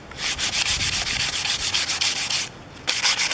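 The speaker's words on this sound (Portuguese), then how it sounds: "vou dar uma lixadinha." An old wooden bench is hand-sanded with fine 220-grit sandpaper in steady, rapid back-and-forth strokes, close and alone, with a brief pause before the rubbing resumes.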